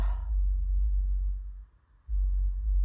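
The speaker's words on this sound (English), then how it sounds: "Y'all can hear a thumping in the background." Deep, muffled bass booms from a nearby vehicle's car sound system, a low continuous rumble with a brief dip, distant and heard indoors without talk.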